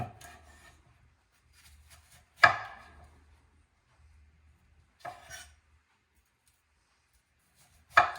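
A knife chopping ingredients for cornbread stuffing on a board, three sharp separate cuts a few seconds apart, with faint rubbing between them in an otherwise quiet room.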